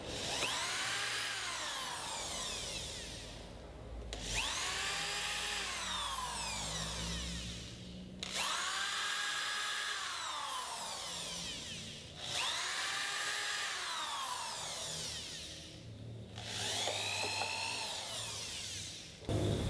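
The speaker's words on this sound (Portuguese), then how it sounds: "Agora vamos fazer um furo pegando na barra com a broca mais fina" Power drill with a thin bit boring a hole through a bar of a broken bed frame, running in five long whining bursts of about four seconds each, separated by short pauses, with the motor pitch rising and falling during each run.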